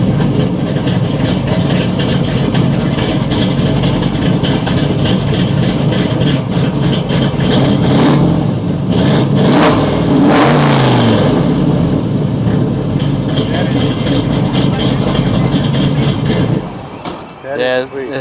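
A 1969 Chevy Camaro with a 3-inch exhaust rumbles and revs loudly at close range, with a heavy, continuous engine note and a brief climb before it cuts off near the end. Voices talk over it in places.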